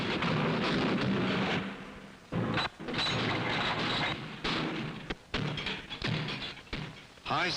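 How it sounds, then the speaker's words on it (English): Remington rifles and shotguns, including .22s, being function-fired to test their magazines and mechanisms. Heavy booming reports repeat at irregular intervals, each cutting off sharply with a short gap of quiet between them. "firing, to make sure the magazines and mechanisms of all multiple-shot rifles and shotguns are in perfect working order."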